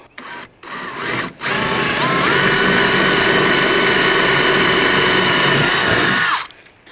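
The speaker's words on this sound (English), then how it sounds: "Drilling is probably gonna be the quickest, so let's put a hole through this now." A power drill whirs steadily for several seconds after two brief starts, loud and close, then winds down to a stop.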